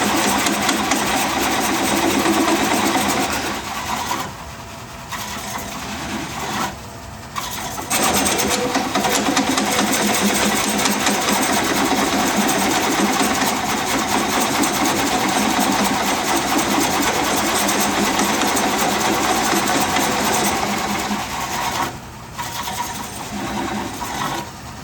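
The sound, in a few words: woodturning lathe coring a bowl blank with Hunter Korpro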